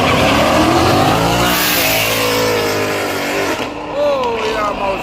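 A racing truck in a small-tire drag race revs its engine loudly and continuously, the roar rising and shifting in pitch, with voices talking over it.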